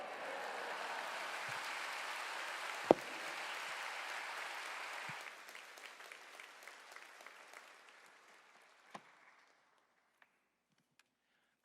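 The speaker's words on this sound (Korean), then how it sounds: "큰 박수로 목사님을 맞이하시겠습니다" A congregation at Yoido Full Gospel Church in Korea gives a pastor a big welcoming round of applause: dense, sustained clapping that thins after about five seconds into scattered claps, then fades to near silence.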